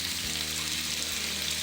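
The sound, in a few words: chicken frying in pan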